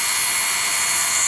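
A rotary tool fitted with radial disks runs at high speed against metal. It gives off a steady, loud, high-pitched whine that holds without a break.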